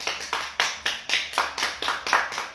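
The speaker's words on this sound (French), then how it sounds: "Premièrement, on s'applaudit" A small group of people claps in a quick, even rhythm, close and clear, with nothing else heard.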